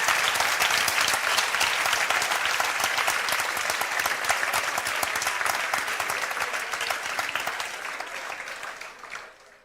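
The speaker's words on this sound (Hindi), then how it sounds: "एक बार जोरदार तालियां अपने लिए बजा दो।" A large audience at a village gathering claps loudly and steadily for nearly ten seconds, a dense sustained applause that tapers slightly toward the end before stopping abruptly.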